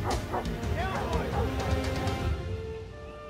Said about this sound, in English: Nice doggy! Heel! Heel! Heel, boy!